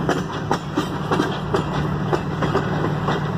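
A long CN northbound mixed freight train led by CN 5223 rolls past steadily, its wheels giving off repeated rhythmic clicks and clunks over a continuous rumble, fairly close and loud.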